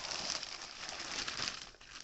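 Cut-up old potato sacks of burlap are handled and crumpled close by, giving a steady rustling, crinkling texture throughout.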